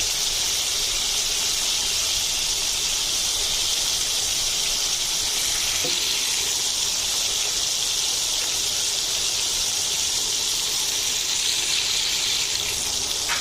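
Steady, bright hissing sizzle of prawns frying in hot oil, continuous and close, with no talking.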